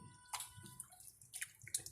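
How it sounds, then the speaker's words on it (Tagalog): Milkfish being washed with vinegar in a kitchen: soft close drips, splashes and faint watery handling noises in short irregular bursts, quiet overall. "Hugasan ko siya ng suka."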